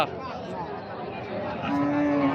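An emaciated cow at the Raniganj cattle market in Dinajpur gives a drawn-out low moo near the end, heard over a steady murmur of crowd chatter and livestock noise.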